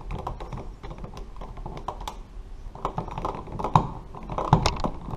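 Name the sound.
screwing electrical outlet back into its mounting screws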